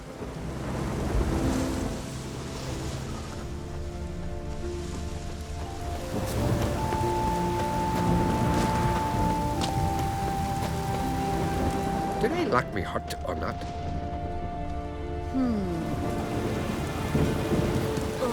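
Steady rain with deep rolling thunder in The Witcher 3: Wild Hunt, a constant wash of downpour under game music and a short crack near the end, while characters talk over it.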